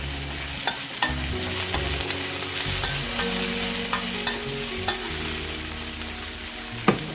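Garlic and crushed ginger sizzle loudly in a pan with prawns, a dense continuous frying hiss broken by occasional clicks and scrapes of stirring.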